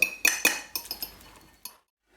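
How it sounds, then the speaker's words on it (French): A fork mixes pesto into ground beef in a bowl, giving several sharp metallic clinks and scrapes in quick succession, then a pause and one last clink before silence; no talking. "avec la fourchette on vient ici mélanger"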